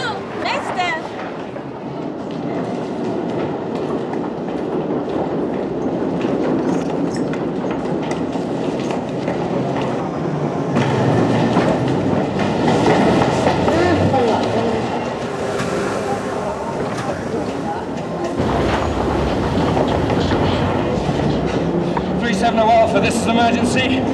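A train rumbles steadily along the rails with rhythmic clatter throughout, heading southbound from Wembley Park, while people talk over the noise.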